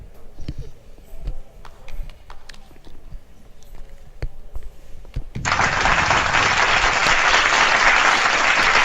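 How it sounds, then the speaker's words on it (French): Applause in a GTA RP video game courtroom trial scene breaks out abruptly midway, a loud dense burst of clapping following quieter footsteps and scattered taps. "Un peu tard les applaudissements"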